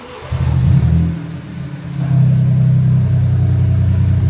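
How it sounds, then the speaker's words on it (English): A BMW 118i petrol engine with a dual-exit exhaust conversion and back box delete idles with a deep burbling exhaust, then blips into a short rev before settling into a loud, rumbling idle. "what a 118i petrol sounds like with a dual exit conversion, back box delete"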